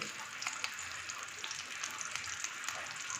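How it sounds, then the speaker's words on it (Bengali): Fish roe frying gently over low heat in mustard oil with salt and turmeric: a steady, soft sizzle with faint crackles, close and continuous, with no talking. "মাছের ডিমটাকে আস্তে করে কম আঁচে নুন আর হলুদ দিয়ে আমি ভেজে নেব হালকা করে।"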